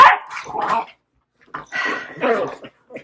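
A beagle barks and yips in two close, loud clusters separated by a brief silence, with a few shorter whimpering yelps mixed in.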